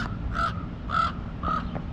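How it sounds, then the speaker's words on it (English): A large crow or raven flying overhead gives three evenly spaced harsh caws, clear and fairly close, over a low outdoor background hum on a humid morning walk. "It's got a crow or a raven, big one, just flying above."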